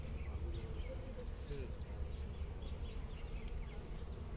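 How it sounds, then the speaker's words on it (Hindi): Honeybees buzzing around an open hive at an outdoor beekeeping workshop, a steady dense drone with faint overlapping buzzes throughout and no clear talk. "ये मधुमक्खी"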